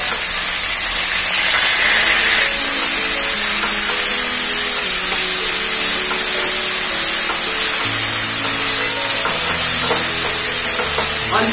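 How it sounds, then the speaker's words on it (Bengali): Grated onion fries in hot oil with nigella seeds after fish was fried in it, a loud continuous hiss and sizzle with faint stirring beneath, for a Bengali fish curry; no speech. "এর মধ্যে গ্রেট করা পেঁয়াজটা দিয়ে দেবো।"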